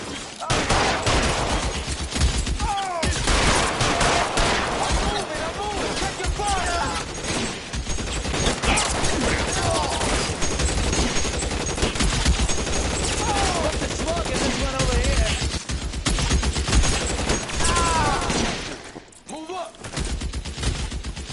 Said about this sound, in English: Guns blazing.